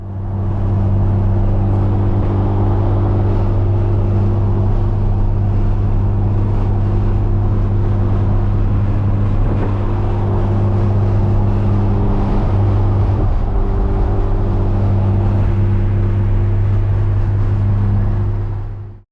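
A K-swapped Porsche cruises along with a steady, loud engine drone and a low, even rumble throughout, heard from inside the car with no talk.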